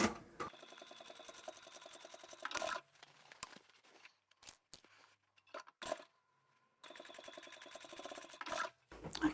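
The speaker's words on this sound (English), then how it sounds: "I'll just stitch that on with a very narrow seam." A sewing machine stitches handles onto the side of a divided fabric basket with a narrow seam, running in steady rapid bursts of mechanical whirring, stopping between runs for fabric handling and small clicks, close up.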